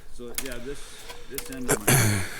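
A metal turnbuckle on a concrete form string line being spun by hand gives a rapid rattling, ratchet-like whirr in several short runs, up close and loud. Someone talks faintly underneath.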